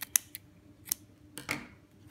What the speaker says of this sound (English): And then just trim off the excess.